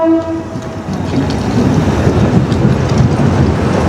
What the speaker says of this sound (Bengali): একদম রাইট টাইমে কিন্তু আমাদের ট্রেন ছেড়ে দিল 12307 হাওড়া যোধপুর সুপারফাস্ট এক্সপ্রেস